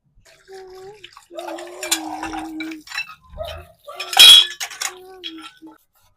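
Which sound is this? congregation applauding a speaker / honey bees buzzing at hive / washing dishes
washing dishes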